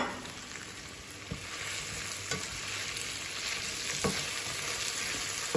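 Diced carrots and a little ginger frying in a pot for Jamaican-style chicken curry, with a steady close sizzle and a few soft stirring scrapes, with no one speaking.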